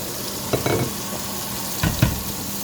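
Onion fries with tomato in a hot pan, giving a loud, steady sizzle with a few scraping stirs and utensil knocks near the start and end.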